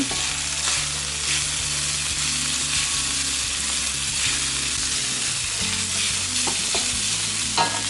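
Marinated BBQ pork stir-fried in a little oil in a pan over medium heat, a steady close sizzle with scraping stirs running throughout, no talking.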